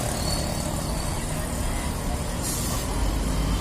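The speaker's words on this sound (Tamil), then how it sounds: "தோ பேருந்து போகிறதே" A bus rolls along Madhavaram High Road in steady traffic, a continuous loud engine rumble with a brief hiss near the end, nearby road noise filling the background.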